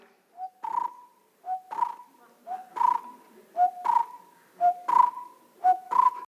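A person whistles an imitation of a barbet's call in Nagzira jungle, giving a repeated two-part note, a short low tone rising into a longer, higher one, about seven times in a steady rhythm, clear and close.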